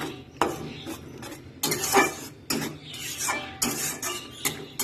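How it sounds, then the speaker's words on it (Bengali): A spice paste for a katla fish curry is sautéed in a pan, with repeated scraping and clattering strokes of a spatula over a low sizzle, loud and close, and no one talking. "দিয়ে এটাকে ভালো করে কষিয়ে নেবো"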